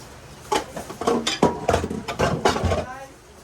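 Dishes being washed with soap at a sink, with plates and cutlery clattering and knocking in a quick, irregular run at close range while people talk over it.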